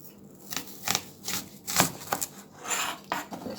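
A knife chopping a medium onion on a cutting board, several uneven taps and scrapes at close range, fairly quiet, with no speech.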